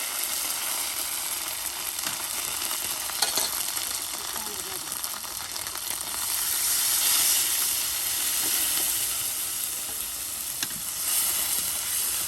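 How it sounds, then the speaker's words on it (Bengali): Onion, garlic and cumin paste frying in oil in a pan, giving a steady close sizzle and hiss that swells slightly midway, with occasional stirring clinks and no talk. "কত সুন্দর করে কিন্তু পেঁয়াজগুলো ভাজা ভাজা করে নেওয়া হলো।"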